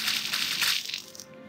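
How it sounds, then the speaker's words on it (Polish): A short crunching, clattering grind as an object is crushed in a Roblox grinding simulator game, bright and rattly, fading out within about a second and a half, with no talking. "Fajny dźwięk niszczenia."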